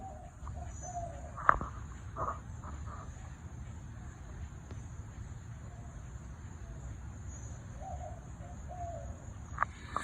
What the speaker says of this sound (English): I'll insert the sounds of the doves in my, like right outside my door now.